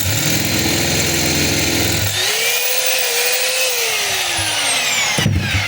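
A DeWalt D25032 rotary hammer running in drill mode, a loud steady motor whine that drops to a lower-pitched winding-down hum partway through, with a brief click near the end.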